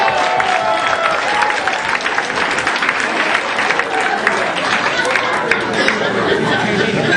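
Comedy club crowd in Ottawa answering the comedian with loud, close applause, mixed with chatter, scattered whoops and a few chuckles throughout.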